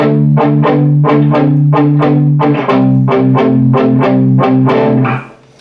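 A clean electric guitar plays a quick run of about a dozen plucked notes in steady rhythm, ringing clearly and alone before fading at the end.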